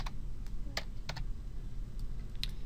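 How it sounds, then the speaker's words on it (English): Computer keyboard being typed on in short bursts of soft, sparse key clicks, close and fairly quiet over a low background hum. "I'll just type this in"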